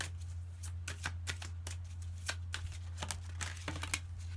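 Message cards shuffled for a card reading make a quick run of crisp, papery riffles and slaps, close and fairly soft over a steady low hum.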